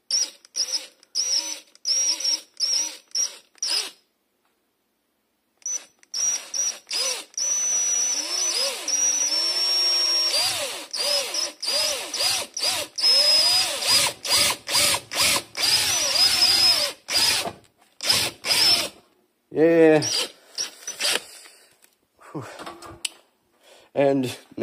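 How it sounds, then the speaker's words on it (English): A power drill bores into copper for a hybrid solar panel build, whirring in repeated short bursts that start and stop, fairly close, with a gap near the start and brief pauses between runs. "Now I drilled the copper."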